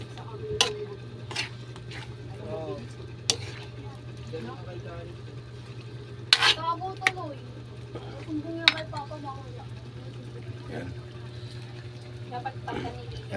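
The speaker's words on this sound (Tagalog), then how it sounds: "Halo-haloin ko ulit." Pork adobo boils in a cooking pot while a utensil stirs it, producing soft scraping and clinking knocks over a steady low hum, with someone talking throughout.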